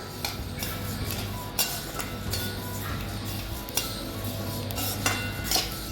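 A utensil scrapes and clinks against a pan as spices for homemade masala are dry-roasted on low heat. The stirring taps come in irregular strokes at moderate volume over a steady background hum.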